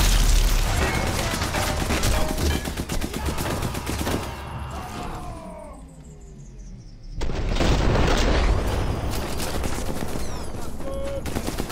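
Enemy machine gun fire in the war shooter Sniper Elite 4: dense bursts of rapid gunfire with booming impacts, loud and close, easing briefly mid-clip before another heavy volley.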